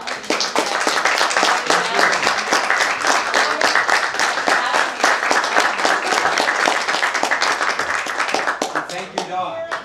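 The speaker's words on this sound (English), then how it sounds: "give the actors another round of applause" A theater audience applauds the actors after a Shakespeare festival talkback, dense sustained clapping from a crowd close by for about ten seconds and tapering at the end, with voices mixed in.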